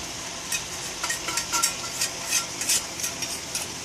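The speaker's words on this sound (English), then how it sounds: "So we got some now lo mein noodles going in there now." Lo mein noodles tossed into a sizzling sauce in a hot pan, a steady fry hiss with soft scraping and stirring bursts scattered throughout, close and moderately loud, with no voices.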